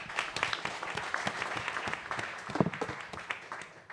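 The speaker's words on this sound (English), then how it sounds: "let's give a round of applause for Eric." Applause from a conference audience closing a startup pitch, a steady dense patter of many hands at moderate level that holds for the full few seconds and tapers slightly at the end.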